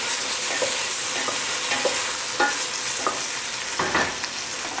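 Squash and zucchini, including patty pan squash, tossed into a hot pan for a veggie stir fry, a loud continuous sizzle broken by repeated scraping stirs, close up and without speech.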